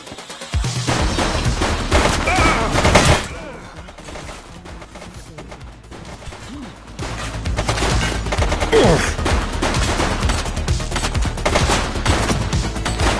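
Heavy gunfire in The Precinct police game crackles in dense volleys, a loud burst followed by a brief lull, then sustained rapid shooting that carries on to the end.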